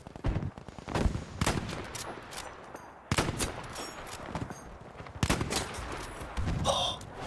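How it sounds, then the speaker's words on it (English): Gunfire in the video game Battlefield 6 comes as several sharp, loud bursts of rapid shots spaced a second or two apart, each trailing off into an echoing rumble. "Oh, insane shooting."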